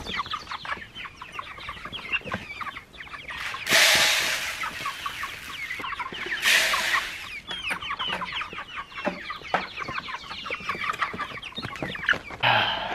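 Meat chickens cluck in a busy, overlapping chorus as they rush out of their coop, the calls fairly close and continuous, with two brief bursts of broadband rustling or flapping partway through.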